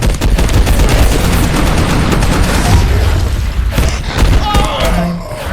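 Sustained heavy gunfire from an enemy in the video game Abiotic Factor, a loud continuous barrage of booming shots and bursts that hardly lets up, with a voice talking over parts of it.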